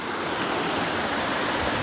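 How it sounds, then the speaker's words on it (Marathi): A small waterfall running after a season of heavy rain, out in open countryside, gives a steady, close rushing wash of water that holds even for the short stretch, with no voices. "इथे एक बारीकसा असा मस्त असा धबधबा आहे"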